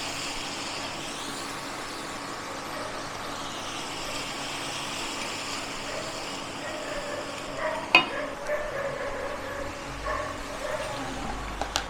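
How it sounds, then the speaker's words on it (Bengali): Butter paneer gravy being stirred in a pan, with a soft, continuous sizzle and scraping, plus a few louder utensil knocks toward the end. "ভালো করে মিশিয়ে নেবো।"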